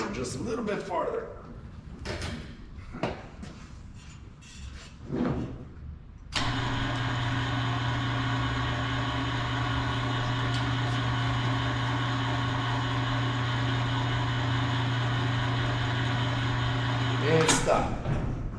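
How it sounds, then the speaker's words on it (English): A car engine idles steadily with a strong low hum and constant drone for most of the clip, starting abruptly after scattered clunks and knocks, as the car creeps forward a short distance. "I need to move the car forward just a little bit farther."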